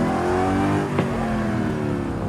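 A car engine in the Forza Horizon 5 video game, heard from the interior camera after the accelerator is released, keeps a steady droning hum with no drop in revs across the short stretch.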